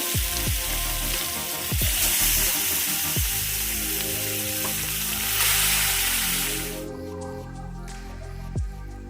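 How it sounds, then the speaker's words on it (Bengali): Koi fish frying in hot oil in a pan, a loud, dense sizzle and spatter continuing throughout, close up, with a few clinks of a utensil and the hiss dropping briefly near the end. "এবার মাছগুলো ভালো করে ভেজে নেব"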